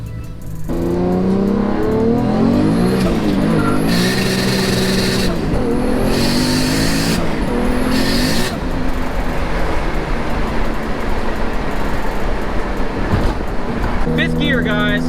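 A car with a newly replaced shifter housing gasket pulls hard at night, its engine revving loud and close and climbing in pitch through the gears with brief dips at each shift, while the driver talks over it.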